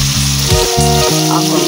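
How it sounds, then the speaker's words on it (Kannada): Sambar powder, turmeric and spices fry over low heat in a pan for a fish sambar, giving a steady close sizzle while someone speaks over it. "ಹೀಗೆ ಕಮ್ಮಿ ಉರಿನಲ್ಲಿ ನೋಡಿ ಈ ಥರ ಫ್ರೈ ಮಾಡ್ಕೊಳ್ಳಿ."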